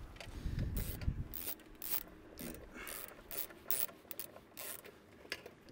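Small screws on a Jeep part are tightened gradually in turn, giving close ratcheting clicks and metallic scraping against a steady background noise.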